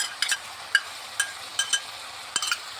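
Potatoes are stirred with beaten sour yogurt in a pan, a soft background sizzle broken by a handful of sharp clinks and taps of a spoon against the metal.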